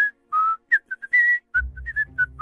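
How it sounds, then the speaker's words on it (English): A person whistles a short, quick tune of separate bright notes, close and clear, with a low rumbling background sound joining partway through. "I was just whistling."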